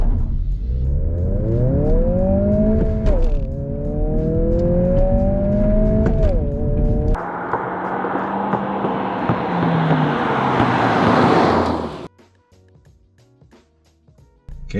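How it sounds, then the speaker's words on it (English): A 2022 Honda Civic Si in sport mode with stability control off launches from 2000 RPM, its engine roaring loudly as revs climb through gear changes, then a rushing surge of road and wind noise before cutting off. "So this is sport mode still, VSA just off, and 2000 RPM launch."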